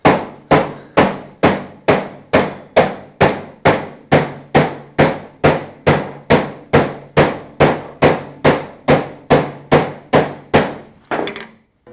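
Loud, regular hammer blows from a planishing hammer striking a metal panel on a sandbag, about two per second, keep up a steady rhythm for the whole stretch with no talk.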